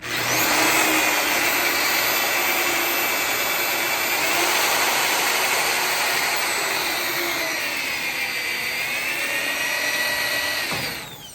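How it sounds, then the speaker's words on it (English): A drill whines at high speed through a metal rivet with a 3/16 bit, running continuously for several seconds before winding down and stopping abruptly at the end. "you're drilling a 3/16 piece of metal with a 3/16 bit"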